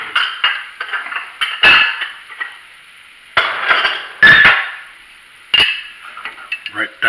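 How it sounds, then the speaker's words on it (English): A dish set down on a kitchen counter beside a stove where onions and garlic have been cooking, heard as several sharp close clunks and clinks scattered among lighter handling noises. "Put my dish that I'm going to use."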